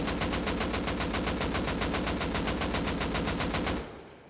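An AK rifle in the video game Rust fires one sustained full-auto burst of evenly spaced, loud shots for nearly four seconds, then stops and a short echoing tail fades out.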